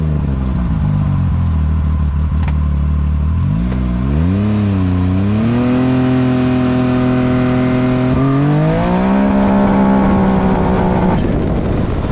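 A Can-Am X3 side-by-side's roughly 310-horsepower engine running on 110 octane fuel, idling steadily and then revving up through several rising and falling sweeps, loud and close, with no talk over it.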